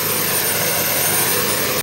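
A jet-powered experimental race car's engine revs to 38,000 RPM, a loud, sustained roar with a high-pitched whine, holding steady and then cutting off abruptly.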